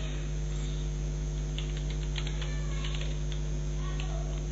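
Keys clatter in quick irregular bursts on a computer keyboard as text is typed into a Word document, close by and moderately loud over a steady low electrical hum.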